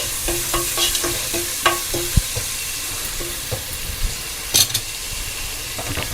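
Onions frying with salt in a pan, a steady sizzle with scattered stirring clicks and scrapes of a spoon, close and moderately loud with no talking.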